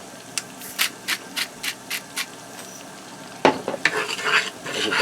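A spoon stirs spices into melted butter in a pan for shrimp, first as a run of eight or so evenly spaced scrapes, then a louder burst of sizzling and clattering strokes, close and with no talking.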